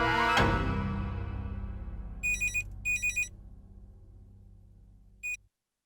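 After a dull thump that fades out, a telephone rings in electronic bursts: two trilling double rings close together, then a shorter ring a couple of seconds later, clear and fairly close, set in a TV drama scene.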